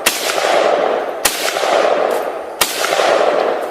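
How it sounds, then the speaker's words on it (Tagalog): Guards firing guns in a sound effect: three sharp loud shots spaced about a second apart, each trailing into a hissing, rumbling decay before the next. "Walang habas ng papaputok ng baril ang mga gwardiya."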